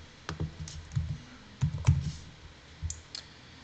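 Computer keyboard being typed on to enter a search, a handful of sharp, close key clicks in irregular bursts with short pauses between.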